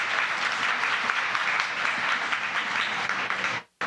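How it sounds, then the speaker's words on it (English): An audience at a community crowdfunding event in an artisan center claps in a sustained, dense round of applause that holds steady for several seconds, then stops abruptly. "can we have another round of applause for Eli?"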